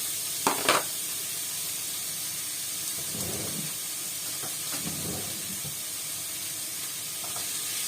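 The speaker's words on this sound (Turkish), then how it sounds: "Şöyle buna hiç yağ koymadan şöyle mühürleyeceğim bunu" About 300 to 400 grams of meat sears in a hot pan with no oil, giving a steady soft sizzle and hiss with a few brief scrapes and clatters from stirring and no talking.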